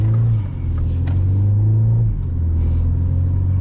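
A 2025 Mini Cooper JCW with a 7-speed DCT pulling away, its engine a loud, close rumble that rises and drops as it shifts through gears, heard from inside the cabin.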